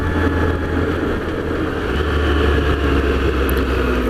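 A 2016 Triumph Trophy motorcycle's triple-cylinder engine idles and runs smoothly at an even pitch, a continuous low rumble with no talking over it.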